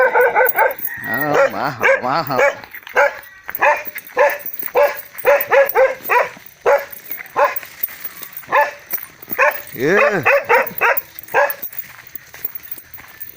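A dog barks repeatedly in sharp, close bursts with a few yips, while a person speaks briefly in between.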